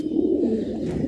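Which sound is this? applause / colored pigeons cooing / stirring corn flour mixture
colored pigeons cooing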